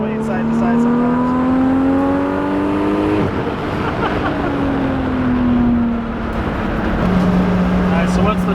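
A 1000+ hp Moon Boosted right-hand-drive Toyota Supra engine pulls hard under load, its loud steady drone rising in pitch through a long run with a break near the middle, recorded close from inside the car.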